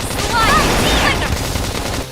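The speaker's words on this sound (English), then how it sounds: "Try toppling it with gunfire." Rapid bursts of gunfire from the video game Xenoblade Chronicles X: Definitive Edition, loud and dense across two seconds, mixed with game music and effects.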